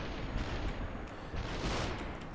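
Rapid bursts of video game gunfire crackle loudly and continuously, dense overlapping shots with no talking.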